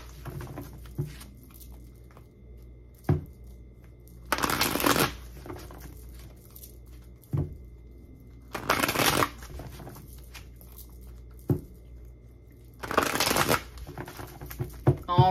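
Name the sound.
shuffling tarot cards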